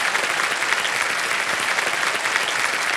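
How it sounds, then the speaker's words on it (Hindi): A studio audience at a televised quiz show claps loudly and continuously, a dense, even wash of applause lasting throughout with no speech over it. "जोरदार तालियां बज जाएं के लिए।"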